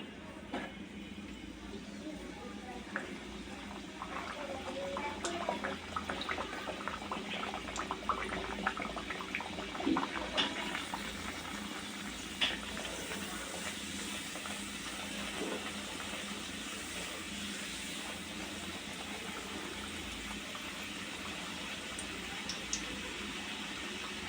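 Luchi, small rounds of dough, frying in hot oil for a beef chaap meal, giving a steady soft sizzle and crackle throughout with a faint low hum in the background and no talking.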